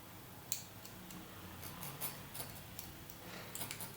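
Scissors cut pattern material for a coin purse, making a few quiet, crisp snips and light ticking clicks close by.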